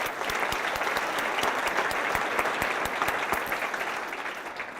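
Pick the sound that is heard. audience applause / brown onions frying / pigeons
audience applause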